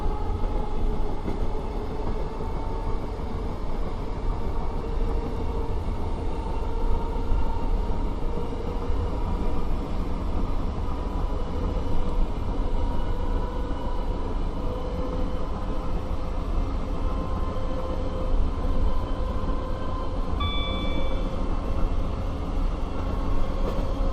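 Class 321 electric train in a Dovetail Games simulator, a continuous rolling rumble with a steady motor drone and faint track noise, alone for the whole stretch with a brief high tone near the end.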